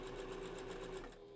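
A domestic sewing machine runs a plain straight stitch through fursuit bandanna fabric, a steady fast mechanical whir that stays close and fairly quiet for a brief stretch with no talking.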